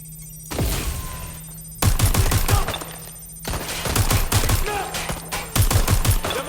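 In Watch Dogs: Legion, gunfire crackles in close, loud bursts of rapid shots separated by short pauses, set against a low humming game backdrop.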